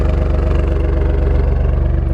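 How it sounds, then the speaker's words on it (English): Alfa Romeo Stelvio Quadrifoglio with quad exhaust tips idling in dynamic mode, a loud, deep, steady burble with an even pulsing throb, close by and without talk. "listen to the way this thing idles"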